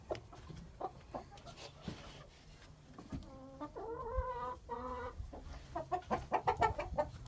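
A broody hen makes soft clucking and chirping calls, a series of short close vocalizations rising into quicker bursts near the end, fairly quiet with little else around.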